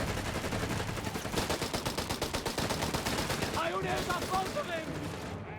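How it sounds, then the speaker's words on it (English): An MG42 machine gun fires in rapid sustained bursts in Company of Heroes 3, loud and rattling, amid other battle gunfire and game effects that thin out toward the end. "MG42 there for Mr. USA, the Maschinengewehr 42."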